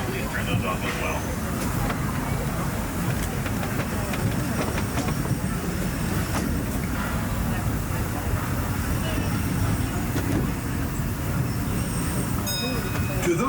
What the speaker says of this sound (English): Once we're inside the train, nuzzle up ahead.